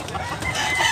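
Chickens clucking and crowing close by, a busy, continuous barnyard chorus with no pauses.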